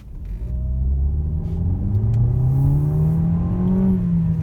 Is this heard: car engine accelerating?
yes